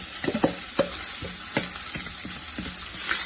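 Greens fry in a pan while a spatula stirs them in an irregular series of close scrapes and taps over a continuous soft sizzle.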